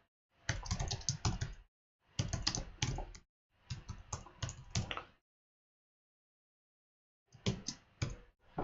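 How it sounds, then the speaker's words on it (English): Typing on a computer keyboard to enter a file name, heard as four close, crisp bursts of rapid key clicks separated by short silent pauses. "So I'll type in the name."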